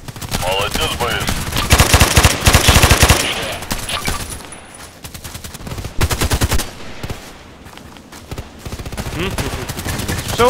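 AEK-971 rifle fire in the shooter game Contract Wars, dense rapid automatic bursts with brief pauses between them, loud and close over ten seconds.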